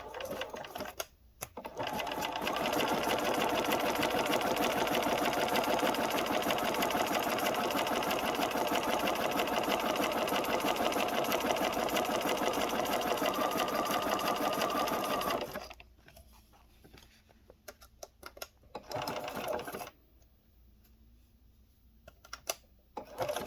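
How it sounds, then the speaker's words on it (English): Sewing machine stitching across the bottoms of plastic page protector pockets, a fast, steady, close mechanical whir for about fifteen seconds, then short stop-start bursts of stitching before falling quiet. "Now I'm just going to sew all of the bottoms of all of my pockets."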